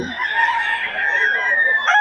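A rooster crows nearby in a long, strained call amid a crowd of clucking chickens, with a faint voice underneath.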